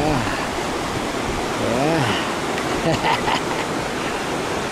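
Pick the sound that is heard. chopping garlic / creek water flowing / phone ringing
creek water flowing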